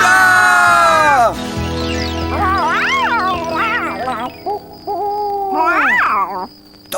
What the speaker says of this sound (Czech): To byla sova pálená, ta je málo kdy vidět.